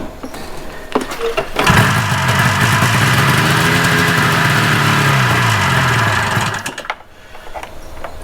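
A cheap snowmobile engine runs loud and steady at a rough idle with no throttle response, a buzzing drone that starts abruptly, holds for about five seconds, then cuts out, with outdoor noise before and after.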